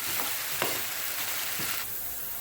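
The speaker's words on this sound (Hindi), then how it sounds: "मैंने इसमें आलू डाल दिए। अब मैं इसको थोड़ा फ्राई करूँगी।" Potatoes for a Spanish omelette fry in a pan with a steady close sizzle, broken by a few soft stirring scrapes, no voices.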